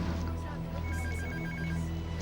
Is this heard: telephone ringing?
yes